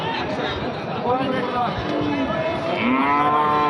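A Friesian bull moos repeatedly with long, drawn-out calls at a busy cattle market, heard over a steady background of crowd chatter and nearby talking.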